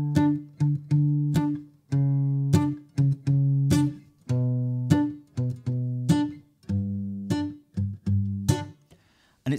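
Acoustic guitar in drop D tuning playing a song, a repeating pattern of bright plucked notes and short strummed stabs with brief gaps between phrases, close and clear with no talking.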